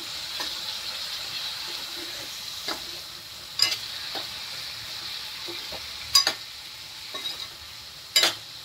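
Potatoes for a dry bhaji fry and sizzle in a pan under a steady hiss, with spatula scrapes and knocks recurring every second or two, close and clear.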